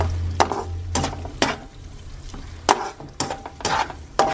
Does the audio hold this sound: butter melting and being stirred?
yes